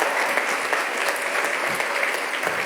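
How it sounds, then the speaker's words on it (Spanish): Steady audience applause fills a lecture hall at a Mesoamerican astronomy talk for students, a dense even patter of many hands throughout, loud and close with no talking over it. "Aplaudimos."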